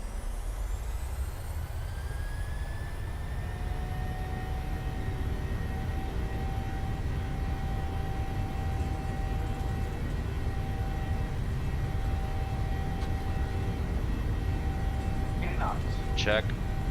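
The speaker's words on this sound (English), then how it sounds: "This plane takes off like a rocket, so we don't need that much of a runway clearance." A PMDG 737-700 jet in Microsoft Flight Simulator spools up for takeoff, with a steady, loud engine roar and rising turbine whine that builds to a full takeoff run, ending in brief higher-pitched tones.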